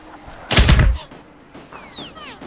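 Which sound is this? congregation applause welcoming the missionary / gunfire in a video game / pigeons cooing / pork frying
gunfire in a video game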